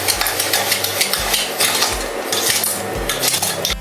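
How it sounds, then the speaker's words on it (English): A spoon stirs peach pie filling of fresh peaches, sugar and a pinch of salt in a bowl, with steady clinks and scrapes of utensil against the dish, fairly loud and close, no talking. "So you want to stir this up, get it mixed together really good."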